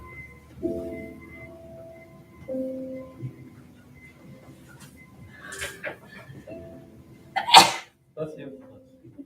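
One sharp, loud sneeze bursts out among quieter scattered voices and murmurs in a classroom.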